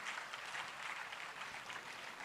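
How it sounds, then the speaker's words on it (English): Steady, dense applause from a conference audience welcoming the next presenter at a tech fair, a continuous even wash of clapping at moderate distance with no speech. "A warm round of applause for our next presenter."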